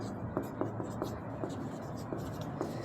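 A pen scratches out a math question about the area of a triangle in short, quick strokes with small taps, faint and close, with no talking.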